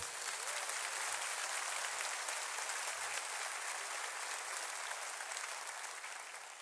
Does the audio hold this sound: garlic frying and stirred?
no